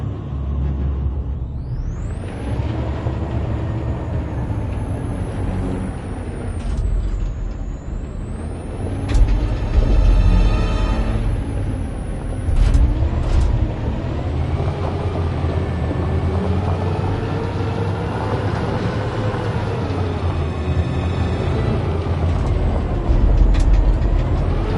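A truck engine with hissing air brakes in the video game Detroit: Become Human: a low, continuous engine rumble runs throughout, broken by loud pneumatic hisses and whining pitch sweeps, with no speech.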